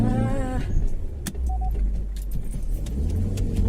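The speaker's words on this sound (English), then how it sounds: "Oh my god, there's a car coming." A car comes along a narrow forest road with a steady, fairly loud low engine rumble and tyre noise that hold throughout, broken by a brief sharp click partway through.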